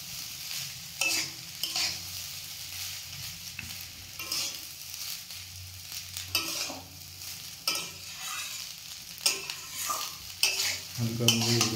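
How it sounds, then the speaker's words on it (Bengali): Cooked rice tossed with ghee, vegetables and black pepper in a pan, giving a steady soft sizzle with repeated scraping and stirring strokes, close and moderately loud, with no voices. "দিয়ে রাইসটাকে ঘিটাকে ভালো করে আর সবজির সাথে ভালো করে মিশিয়ে নেওয়া হচ্ছে।"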